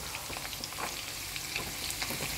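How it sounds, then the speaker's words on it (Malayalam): Chopped onion goes into a hot pan already frying green chillies for scrambled eggs, crackling in a dense, continuous sizzle with small popping bursts throughout. "അടുത്തതായി നമുക്ക് സവാള അരിഞ്ഞതിട്ട് കൊടുക്കാം"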